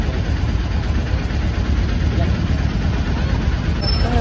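An auto rickshaw's small engine runs at idle, a continuous low, slightly knocking rumble that holds steady close by, with someone talking over it.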